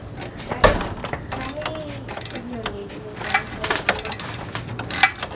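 Ratcheting and metallic clicks ring out while an 8mm bolt is removed from the fairing of a Lifan KPR200 motorcycle, with irregular close taps and scrapes of the tool and a few sharper clinks, and a little talk underneath.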